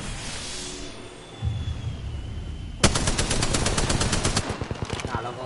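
A weapon fires in a video game in a fast automatic burst of many evenly spaced shots, loud and close, after a quieter stretch of game ambience.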